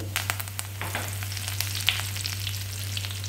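Curry leaves, cinnamon and fennel sizzle in sesame oil in a pan, a steady frying hiss with small crackles and pops throughout, with a constant low hum underneath.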